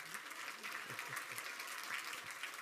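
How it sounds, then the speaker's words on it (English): Faint audience clapping after a yo-yo trick called rock the spider baby, a short scattered patter of hands at some distance, fairly quiet throughout. "People usually clap for that"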